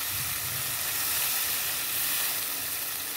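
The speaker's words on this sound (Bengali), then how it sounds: "এই দেখুন, ভালো মতো জলটা আমি দিয়ে দিচ্ছি পরিমাণ মতো।" Water poured over spices frying in a pan for a rohu fish curry with ridge gourd and potato, giving a loud, steady broadband sizzle and hiss that fills the whole span with no talking.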